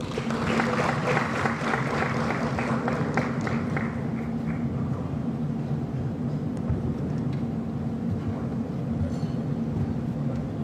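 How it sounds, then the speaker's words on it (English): Applause at a high-level economic growth forum fades from a fuller start into a steady, distant rumble of hall noise and low murmuring over roughly ten seconds. "Ladies and gentlemen, round of applause."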